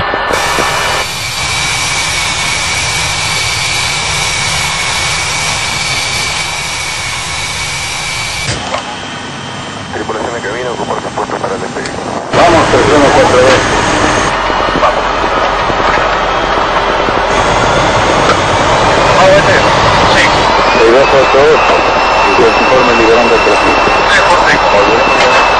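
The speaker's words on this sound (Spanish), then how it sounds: "Despegamos, señor. Despegamos." Airliner jet engines roaring loud and steady during the takeoff roll of LAPA flight 3142, a Boeing 737 with registration LV-WRZ, with a sharp shift in pitch partway through and voices speaking over it.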